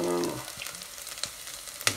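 Chopped ginger sizzles and fries in a little oil in a pan, a steady crackle with a few sharp clicks of stirring, close and alone.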